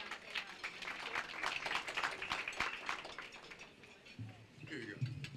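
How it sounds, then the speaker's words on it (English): A room at a community gathering breaks into steady applause, dense and moderately loud, with a voice talking as the clapping fades near the end. "So let's give him a big round of applause."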